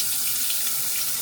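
Water tap running into a sink to rinse after a wet shave, a steady close hiss of flowing water that lasts the whole brief moment with no voices.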